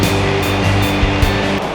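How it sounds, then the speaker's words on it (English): Gibbon Falls, a waterfall in Yellowstone, pours with a steady, dense rush of water that holds even and loud throughout, with a faint low rumble beneath. "We're at Gibbons Falls, and I think it's a waterfall"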